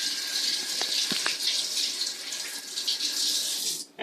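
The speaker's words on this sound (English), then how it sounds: "I'm going to go ahead and rinse my hands off here" Hands rinsed under a running kitchen tap, giving a steady, close hiss of flowing water with light splashes as the hands move through it, then a cutoff at the end.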